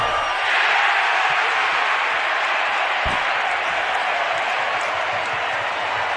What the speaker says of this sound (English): there was a cheer there because they just won free yogurt by that miss